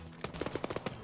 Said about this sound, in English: I'm getting some possible gunfire from the red house front northwest.